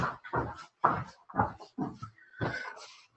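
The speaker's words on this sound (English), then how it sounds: "Apologies for the barking dogs." Several short, muffled dog barks in an irregular burst, somewhat distant and fairly quiet, with no voices.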